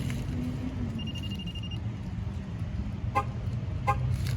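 A car horn gives two short toots near the end of a tire pressure sensor relearn, heard over a steady idling engine and light ambient noise, with no talking.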